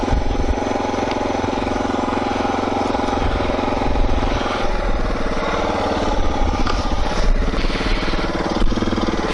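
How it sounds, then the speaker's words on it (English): A motorcycle engine on an outback track revs steadily and loud, close up, with a rough, continuous throaty drone and small swells in intensity. "that's why the bike's revving."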